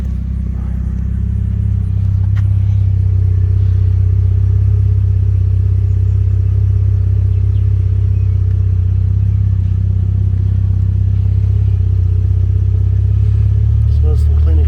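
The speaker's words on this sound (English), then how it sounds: "It's nice and throaty. You can't really rev it." A 2013 Cadillac CTS Premium fitted with a Cherry Bomb exhaust idles close by, a loud, steady, deep throaty rumble holding constant throughout with no revving.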